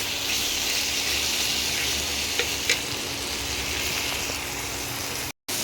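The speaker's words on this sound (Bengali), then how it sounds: "আস্তে আস্তে মশলাটা দিয়ে মাংসটাকে কষাতে আরম্ভ করবে" Meat for chana murgh sautés in hot oil with spices, giving a steady, close, dense sizzle with a few faint clinks of stirring, no voices, and a brief dropout near the end.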